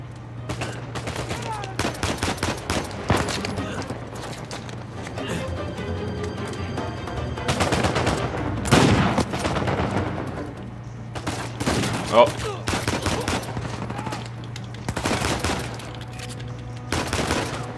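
Repeated bursts of gunfire in the video game Uncharted 4: A Thief's End, loud, dense volleys and rapid fusillades recurring throughout, with a steady low hum beneath.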